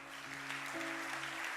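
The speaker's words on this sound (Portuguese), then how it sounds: "Você pode aplaudir o nome do Senhor?" Church congregation applauding together, a steady wash of clapping that stays loud and even throughout, with a sustained organ or keyboard tone held beneath it.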